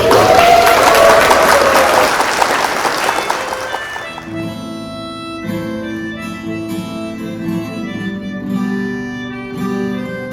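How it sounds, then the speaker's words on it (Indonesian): An audience applauds a music team, a dense and loud wash of clapping that fades out after about four seconds as a band starts playing, with drums and sustained keyboard tones taking over. "mungkin kita sambut dengan tepuk tangan tim musik kita"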